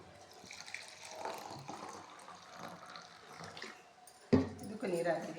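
Water runs and splashes into a container while dishes are washed with dish soap, a soft steady trickle that ends in a louder splashing burst near the close, with a voice speaking over it.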